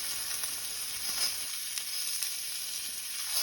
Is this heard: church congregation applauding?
no